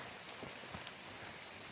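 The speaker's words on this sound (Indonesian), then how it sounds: "Ternyata kita kehujanan." Steady rain pouring down outdoors, a continuous hiss of falling water with occasional louder drops and taps close by.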